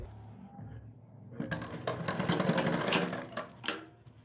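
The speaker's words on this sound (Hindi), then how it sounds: "जितनी मोटी हमें पाइपिंग चाहिए उतनी ही मोटी हम यहाँ पर सिलाई लगाएंगे" A sewing machine stitches piping onto a kurti neckline, starting quietly and then running in a steady, close mechanical whir with rapid clatter for a few seconds before slowing.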